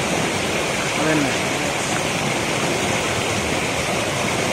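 Dhoni Waterfall in Palakkad, Kerala, during the monsoon, heard as a steady, dense roar of rushing water, loud and close, continuous throughout, with a faint voice briefly under the rush.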